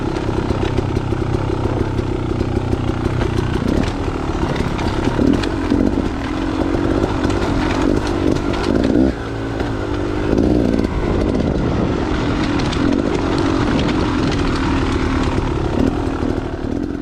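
Off-road motorbike engine on a wooded trail, revving steadily while descending with clutch feathered and light throttle; a continuous, loud buzzing drone with small surges in pitch throughout, no talk.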